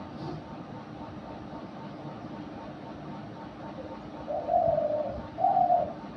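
Two soft dove coos arrive close together near the end, preceded by several seconds of quiet low ambient rumble.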